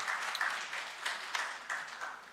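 Brief applause from a conference audience at a business summit in Kisumu, Kenya. Moderately loud clapping from a crowd, with a few individual claps popping out above the wash.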